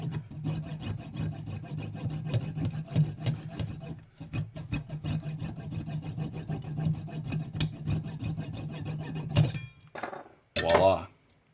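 A drilled and tapped metal post is cut off by hand in a garage, with a steady rasping, sawing rhythm for several seconds, a short pause, and a final clatter as it comes free.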